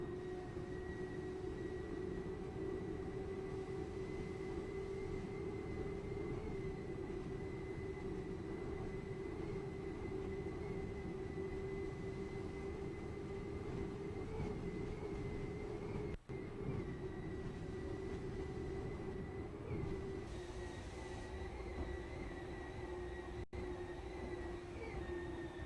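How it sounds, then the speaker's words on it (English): A turbine-powered MTI racing powerboat runs steadily at the Key West 2007 World Championships with a continuous, high-pitched turbine whine over a broad, constant roar, heard from a distance without any break. "the big turbine-powered MTI spooled up, running strong here at Key West 2007"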